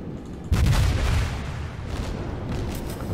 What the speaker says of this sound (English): I love these shots going over